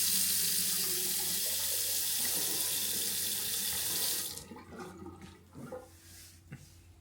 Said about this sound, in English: The sink is installed and it's working quite well.